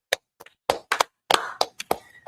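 A few people clap in sparse, uneven bursts, sharp close hand claps with gaps between them, fairly quiet and without talk.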